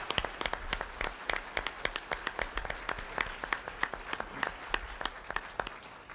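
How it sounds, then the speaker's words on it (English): A luncheon audience claps for a few seconds, a steady patter of many hands heard from within the room, even in pace and moderately loud without a clear rise or fade. "Let's give these leaders a big round of applause,"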